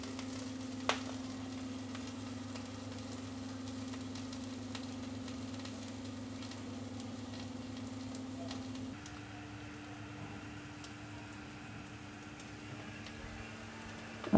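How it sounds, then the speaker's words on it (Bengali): Potatoes fry in oil with only salt until reddish, giving a continuous, fairly quiet sizzle with faint ticking crackles; the sizzle drops slightly in level about two-thirds of the way through. "শুধু নুনে ভাজা, একটু লাল লাল করে ভাজা হচ্ছে"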